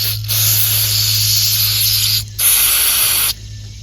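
Mass air flow sensor cleaner sprayed from an aerosol can onto a varnished small-engine carburetor part from a Predator 212, two loud close hissing bursts separated by a brief pause.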